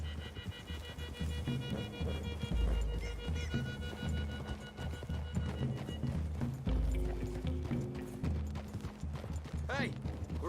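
Horse hooves clip-clop at a steady riding pace through trees in the Red Dead Redemption II video game, with rhythmic thuds, tack jingles and low game music, while characters talk over them.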